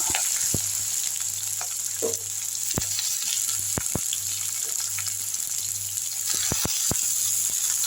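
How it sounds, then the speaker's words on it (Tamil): Oil sizzles and crackles steadily in a pan as green chilies and onions fry, with scattered sharp pops and clicks over a constant hiss. "ஆயில் காஞ்சிருச்சு பச்சை மிளகாய் எடுத்து போட்டுப்போம் வெங்காயம் எடுத்து போட்டுப்போம்"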